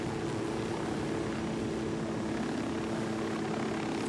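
Two helicopters in Ghost Recon Wildlands drone steadily, with a constant rotor and engine wash of even loudness throughout, with no other sounds over it.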